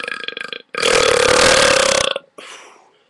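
A single very loud, close, drawn-out burp rumbles for well over a second, with shorter belches just before and after it.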